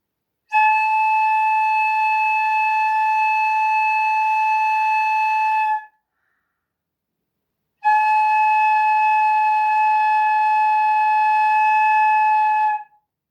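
Two long, steady flute tones made by blowing across the embouchure hole, each about five seconds, with a short silence between them. They sound clear and close.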